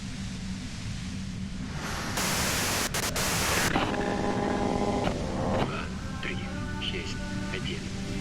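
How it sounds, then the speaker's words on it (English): White noise in the Disco Elysium video game: a loud, steady burst of broadband hiss over a low ambient hum, which gives way to fainter tonal sounds. "If you've got something really important to say, you can do it through the white noise."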